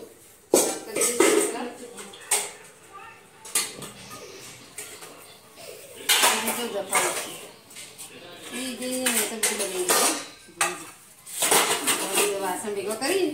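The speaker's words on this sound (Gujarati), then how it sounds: "વાસણ ભેગો કરી પાછળ મૂકવાનો હું" Kitchen utensils, pots and dishes clatter and clink in irregular bursts as they are gathered up after a meal, with someone talking over the clatter throughout.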